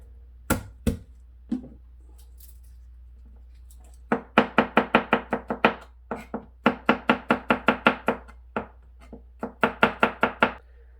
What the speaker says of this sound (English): We need to dice the onion very fine.